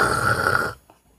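A person imitates a loud, rasping snore: one long, harsh, guttural rattle held close up, then breaking off abruptly into quiet with a small trailing breath.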